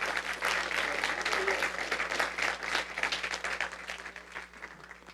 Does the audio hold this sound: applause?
yes